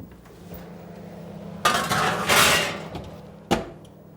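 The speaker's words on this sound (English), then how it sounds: "taking this lovely oil from the turkey tray, just getting it into the roasting tray here" Turkey oil is ladled into a metal roasting tray while preparing Christmas dinner roast potatoes, giving a few sharp metallic clanks and scraping bursts against a quiet kitchen background.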